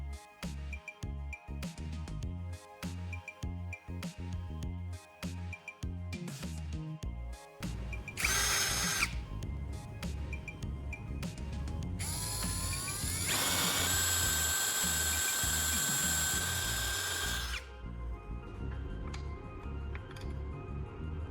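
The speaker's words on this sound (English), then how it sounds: "drill a hole right at the center of the circular end." A power drill whirs in repeated short bursts, then runs in two longer high-pitched spells as it bores into wood, loud and close.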